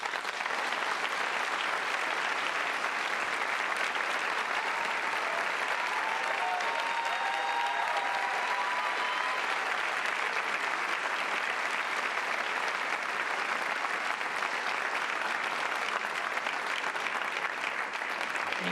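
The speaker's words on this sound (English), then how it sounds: "Let's give everyone a big round of applause." Sustained audience applause at a university graduation ceremony, a steady dense roar of many hands clapping that holds at an even level from start to finish, with a few faint whistles or cheers rising through it.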